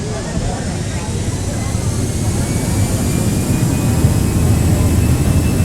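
An Airbus airliner's jet engines spooling up at takeoff from LaGuardia in the Prepar3D flight simulator, a loud steady roar that builds gradually with a faint whine above it.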